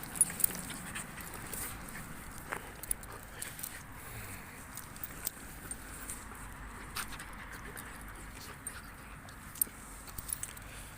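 A puppy in a Brisbane city setting, audible as faint panting, snuffling and small scratching sounds with light taps of paws or footsteps, quiet and intermittent against background city ambience.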